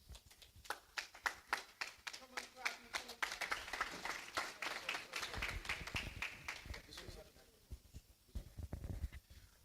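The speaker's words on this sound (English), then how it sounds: "A round of applause, please." Clapping at an Abuja chapter technical and business meeting for the NUPRC, a room of hands applauding in a sustained burst, fairly close, with voices talking underneath throughout.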